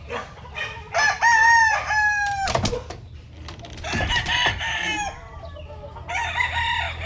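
Grey chickens on a poultry farm, with a rooster crowing loudly and close in long drawn-out calls, mixed with scattered clucking from hens and a few sharp knocks.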